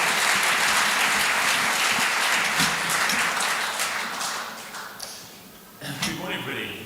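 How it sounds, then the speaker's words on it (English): A church audience gives a speaker a loud, dense round of applause that stays strong, then thins out near the end as a voice begins to speak. "Let's give Ben a big round of applause."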